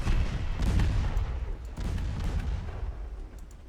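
Warship torpedo launches in the naval video game Ultimate Admiral Dreadnoughts, a few deep booming thuds in quick succession, loud and close, with no talk.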